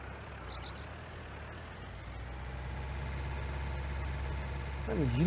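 Small but powerful tractor in Farming Simulator 19, its steady low engine drone running continuously and rising slightly toward the end, with faint game tones above it.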